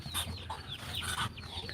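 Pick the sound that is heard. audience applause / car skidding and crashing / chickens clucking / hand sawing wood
chickens clucking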